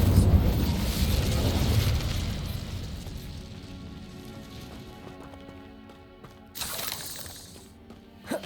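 An Incendio fire spell is cast in Hogwarts Legacy: a loud roaring, crackling burst that fades over several seconds, then a second, shorter fiery flare near the end.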